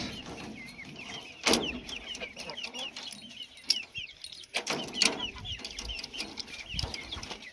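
Several village hens, one of them broody, cluck softly and repeatedly nearby, with a few sharper bursts and scuffles among them, in a quiet outdoor setting without talk.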